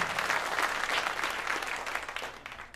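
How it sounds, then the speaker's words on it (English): Steady applause from a crowd, clapping evenly throughout and easing off slightly toward the end. "you should stand up and take a virtual round of applause"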